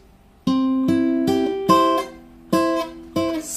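An intro phrase from a song played on guitar as ringing two-note sixths: six separate plucked dyads at an uneven rhythm, each left to sustain, close and clear with nothing else heard.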